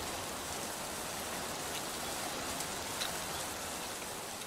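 Steady rain falls throughout a music video comeback trailer, a dense, even hiss with no breaks, heard alone and fairly soft.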